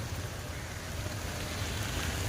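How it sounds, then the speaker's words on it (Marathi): Rain falls in Ashti village as a soft, even hiss with low patter, fairly quiet and steady throughout, with no voices over it. "तुमच्या गावाकडे आष्टीमध्ये पाऊस चालू झालाय"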